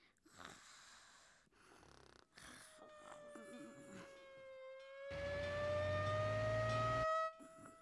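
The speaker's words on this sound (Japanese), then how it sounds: "めぐみの消防車。" A cartoon fire engine siren wails with a long rising and falling tone, joined by a louder rumbling burst near the end, amid scattered effects and short gaps.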